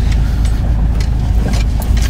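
A car rolls slowly over a rough, rocky dirt road on the way to a mountain view deck, its engine a steady low rumble mixed with intermittent bumps and scraping as the tyres push over stones.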